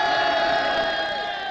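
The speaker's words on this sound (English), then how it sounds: "Supporters cheer Nawaz Sharif as he arrives to cast his ballot in Lahore" A crowd of supporters cheers and shouts in a sustained roar outdoors in Lahore as Nawaz Sharif arrives to vote during Pakistan's parliamentary elections.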